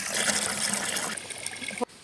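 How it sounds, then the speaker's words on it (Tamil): Water running into a bucket being filled with 20 litres, a steady loud gushing splash that changes tone partway through, then cuts off abruptly near the end. "ஒரு பக்கெட்டில் 20 லிட்டர் தண்ணி பிடிச்சிக்கலாம்."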